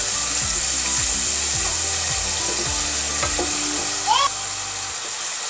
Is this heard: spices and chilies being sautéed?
yes